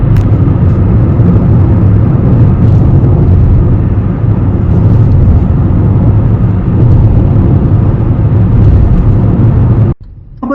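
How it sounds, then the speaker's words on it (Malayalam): A Hyundai Avante on the road with a suspected wheel bearing or tire fault, giving a loud, steady droning hum and whir of road noise from inside the cabin that continues unbroken before cutting off abruptly near the end. "ഇനി നിങ്ങൾ കേൾക്കാൻ പോകുന്ന സൗണ്ടാണ് ഈ കാറിന്റെ നിലവിലെ പ്രോബ്ലം"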